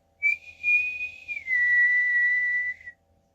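One person whistles a single sustained tune, clear and close, holding a steady note before sliding down to a slightly lower one, alone against near silence.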